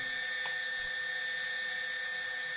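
A spinning collet draw nut for a Harig spin-indexer is polished with a Cratex rubberized abrasive stick, producing a steady high-pitched whine with a faint rising grind toward the end, close and fairly loud.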